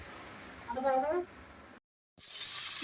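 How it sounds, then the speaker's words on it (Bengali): Large fish pieces frying in oil in a home kitchen give a bright, steady sizzle near the end, after a short stretch of talk and a brief silent break. "মাছ ভাজা হচ্ছে"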